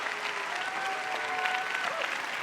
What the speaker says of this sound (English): Not only do they clap, but you got some people that cheered as well.